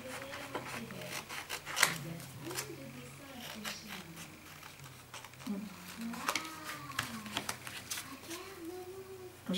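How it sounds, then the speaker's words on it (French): Scissors snip through black paper in a crafting session, giving a run of soft, close cuts and rustles while a person speaks over them. "Donc maintenant on découpe dans le papier noir"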